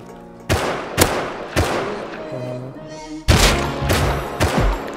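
Gunshots ring out in the video game Rust: several loud, sharp reports in two clusters, an early group of three spaced shots and a later quicker burst, close and dominant with a little talk between.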